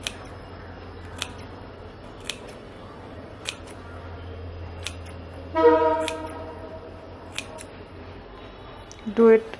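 Scissors snip notches into the rounded fabric edge of a handmade bag, cutting up to the stitch line. Several quiet, crisp snips come at spaced intervals, with a short tonal sound partway through.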